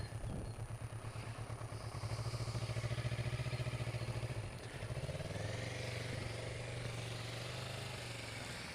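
A motorcycle engine runs steadily during a riding lesson U-turn, its mid-pitched hum rising as the throttle opens and then settling, close and continuous with no talking.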